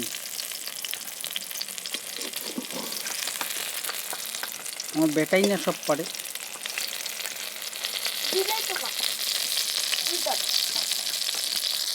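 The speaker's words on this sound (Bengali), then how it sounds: "বেগুন ভাজা হয়ে গেছে বন্ধুরা" Continuous sizzling of eggplant slices frying in a pan, steady and close, with a short burst of talking partway through and faint voices later.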